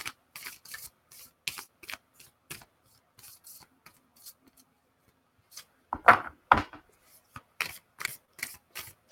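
Tarot cards are shuffled in quick, crisp bursts of riffling and sliding, close and fairly quiet, with short pauses between rounds and a louder flurry partway through.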